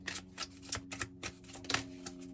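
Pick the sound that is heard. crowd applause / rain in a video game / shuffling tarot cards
shuffling tarot cards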